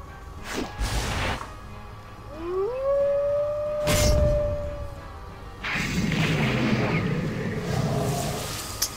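Howl ability sound effect in a World of Warcraft pet battle: a loud, clear, sliding tonal cry that rises then holds, framed by whooshing impact bursts before and after.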